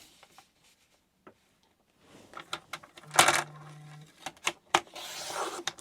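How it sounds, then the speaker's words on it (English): A paper trimmer with a worn blade cuts through sheets of paper: scattered soft taps and clicks, then a short rasping slide of the blade and more light clatter, faint and close. "My paper trimmer needs a new blade, so for some reason it will only like me going in one direction without puckering up the paper."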